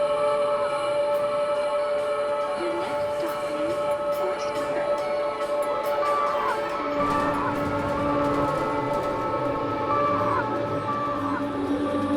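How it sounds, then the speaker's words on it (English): New York's 7 train rolls through Queens with a steady loud rumble, sustained whining tones and squealing wheels or rails, growing heavier partway through, with no voices. "The 7 train winds over and through Queens like a main cable."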